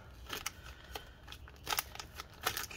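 Cardboard flap being peeled up while opening the shipping box for a Dell Inspiron N7110 laptop, a string of short crinkly tearing and rustling bursts, close and fairly quiet, with no talking.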